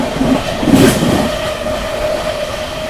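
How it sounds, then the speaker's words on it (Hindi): Mahabodhi Express running at about 130 near Vindhyachal, a steady loud rumble of rolling wheels heard from inside the coach with a faint tonal hum throughout. "विंध्याचल के बाद से भी देखो 130 भागे जा रही है अपनी ट्रेन"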